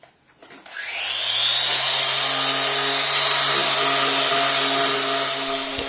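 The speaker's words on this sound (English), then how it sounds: "We'll leave him there doing some sanding." A power sander whines up from a click and runs steadily on a wooden animal cutout in a home workshop, a loud continuous tonal hum with a hiss of abrasive on wood.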